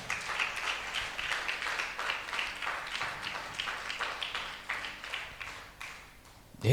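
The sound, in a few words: congregation clapping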